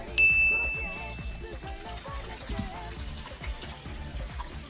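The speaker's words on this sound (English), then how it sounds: "I'm gonna wash my hands first" Tap water runs into a kitchen sink while hands are washed, a close, gentle splashing and trickling with a bright ding at the start, continuing steadily throughout.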